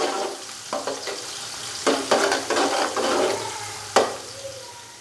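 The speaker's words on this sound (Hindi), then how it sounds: "प्याज को हम अच्छे से फ्राई कर लेंगे गोल्डन ब्राउन होने तक।" Two finely chopped normal-size onions frying in hot ghee for vegetable pulao, a steady close sizzle with a few louder scraping stirs and splashy bursts, no voices.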